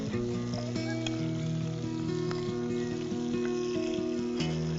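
Onions and small capsicum pieces sauté in hot oil with a steady, close sizzle and soft crackle throughout, with a faint tonal hum running underneath.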